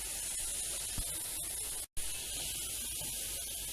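Waffle batter sizzles inside a pressed waffle iron with a steady, close hiss like steam, broken by one brief silence and a few faint clicks.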